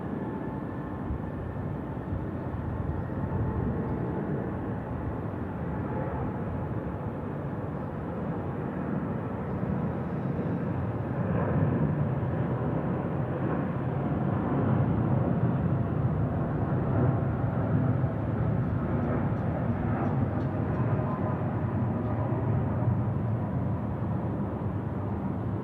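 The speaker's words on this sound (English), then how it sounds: "787, long and lean departure." An Air India Boeing 787 departs at night from Sydney Airport, its distant engines making a broad, steady rumbling roar that swells slightly midway and holds with little variation.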